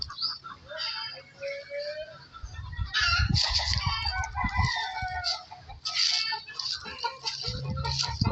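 Chickens in a coop cluck and squawk continuously, with overlapping hen calls, flurries of louder agitated noise and brief wing flapping, close by and steady throughout.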